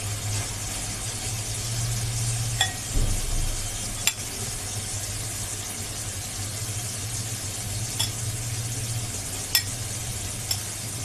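Potatoes sizzle in a frying spice paste with a steady broadband hiss, while a few sharp clinks of a utensil against the pan stand out as they are stirred.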